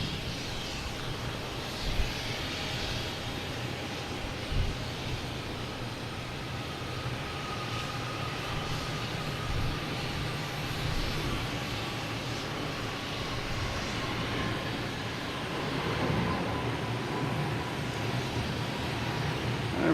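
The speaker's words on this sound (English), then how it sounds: "Japan Airlines will pass in front of us, so we'll get that when it passes in front of us close." A Japan Airlines jet passes close by at Boston Logan Airport: a steady, broad engine roar that holds loud and even throughout, with no talking.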